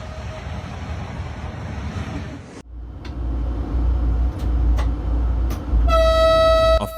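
Train rumbling down snowy tracks toward the camera, a loud low roar building steadily and joined by sharp, sustained horn blasts near the end, with no talk.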